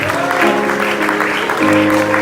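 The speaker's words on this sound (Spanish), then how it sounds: "Den ese aplauso con todo el corazón, Señor." Church congregation clapping together during a Pentecostal service in Popayán, brisk group applause over sustained musical tones, loud and continuous.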